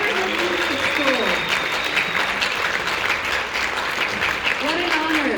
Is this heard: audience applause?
yes